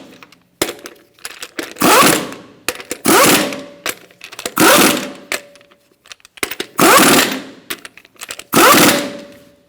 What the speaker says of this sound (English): I like to lock the wheel on with my lower lug nut.